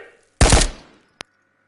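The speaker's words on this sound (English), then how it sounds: "Continue firing until the magazine is empty." A single sharp, loud rifle shot rings out in the VR shooter Ghosts of Tabor and decays quickly, followed a moment later by a short, bright metallic click.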